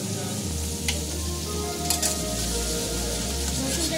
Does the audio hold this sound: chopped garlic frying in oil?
yes